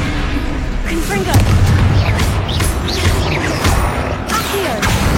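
Confringo explosion spell cast in a Harry Potter video game, heard as loud booming blasts and crashing bursts over a dense game soundscape, with a voice talking through it.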